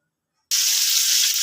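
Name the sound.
pakal fish lightly frying in hot oil in a wok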